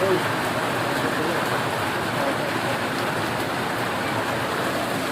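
Heavy rain pours down in a village, with water running everywhere, making a loud, dense, unbroken roar throughout.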